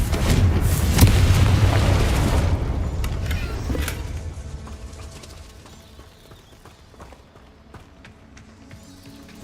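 A Confringo spell explodes in Hogwarts Legacy with a loud, booming blast and rumble that fades slowly over several seconds, with a few faint game sounds trailing behind.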